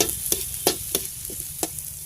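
Onion and garlic sauté in a pan, a soft sizzle broken by several sharp scraping clicks of a utensil stirring at uneven intervals, close and without speech.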